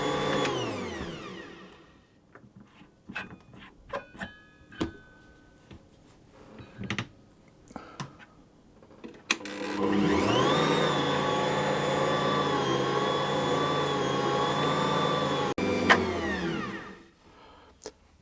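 Scattered clicks and knocks lead into an Ankarsrum stand mixer kneading panettone dough, a steady, fairly loud motor drone that runs for several seconds and then stops.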